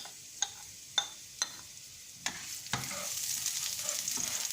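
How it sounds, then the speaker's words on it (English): Diced onion and garlic hit a hot pan and sizzle steadily, broken by a few sharp clinks of a utensil stirring at the start, close and without talk, for a cauliflower dish. "the pan is hot, guys. You just have to add the vegetable. You add the diced onion,"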